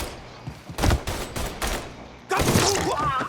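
Bursts of gunfire in the video game Mafia III: several loud volleys of rapid shots in the first seconds, a short pause, then a sustained dense fusillade to the end.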